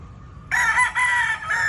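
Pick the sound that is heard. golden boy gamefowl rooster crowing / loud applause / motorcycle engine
golden boy gamefowl rooster crowing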